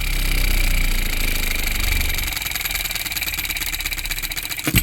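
A small DIY engine kit on its first start runs steadily, loud and close, its sound shifting partway through into a faster, choppier pulsing beat as the governor opens the exhaust valve to cut compression and slow it down, with no talking.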